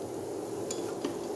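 Oil and onion are stirred in a previously used stir-fry pot for a simple vegetarian dish. Soft, continuous scraping runs under a faint sizzle, with a couple of light utensil clicks against the pot.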